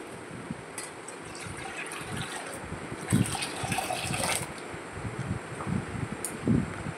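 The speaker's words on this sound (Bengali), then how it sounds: "ভেজানো মুগের ডাল ভালো করে জল দিয়ে ধুয়ে নেব" Soaked mung dal is washed by hand in water, giving soft sloshing, swishing and trickling sounds with a few louder splashes. It is close and fairly quiet against a steady background hiss, with no talking.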